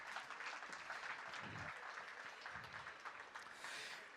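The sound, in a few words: audience applause for a panelist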